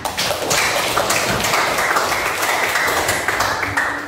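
Students clap together to close a classroom lesson, a dense burst of hand claps and taps that stays loud and steady for several seconds with no voices over it.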